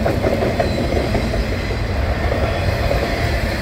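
A long NS 315 freight train trailed by two Union Pacific SD70M locomotives rolls past at night in Lakewood, Ohio, a loud, close, continuous rumble with rhythmic clickety-clack of wheels over rail joints, no talk.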